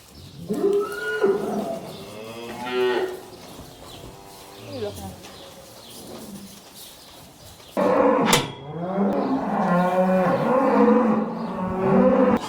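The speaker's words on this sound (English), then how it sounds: "These are freshly calved cows, and this is a bull we bought the other day." Freshly calved cows and a bull mooing in a barn, several loud, drawn-out moos close by, some overlapping, with quieter lowing and shuffling between calls.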